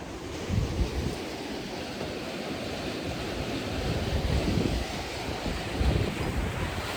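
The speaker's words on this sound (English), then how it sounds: "All the water rushing around the pilings. That's crazy. It is so loud." River water rushes and churns around the pilings of a railroad trestle bridge, a loud, steady roar with surging swells and some wind buffeting the microphone, no voices.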